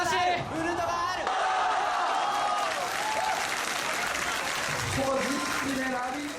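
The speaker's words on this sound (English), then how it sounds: "A large crowd has gathered to watch the final of this domestic championship." Large crowd at a League of Legends domestic championship final cheering and applauding steadily throughout, a dense roar with scattered shouts and voices mixed in.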